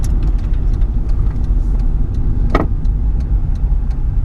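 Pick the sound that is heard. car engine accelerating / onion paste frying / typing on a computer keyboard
car engine accelerating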